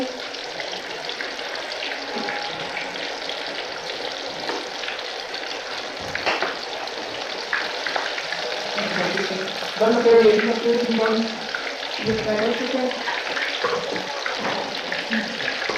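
Beef koftas frying in a pan give a steady broadband sizzle, with a few louder clatters and stirring bursts partway through as the oil crackles under the kofta balls.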